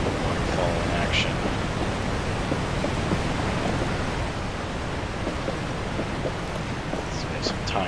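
Constant heavy rush of a waterfall, thick broadband roar at close range that stays steady throughout, with faint voices now and then under the noise.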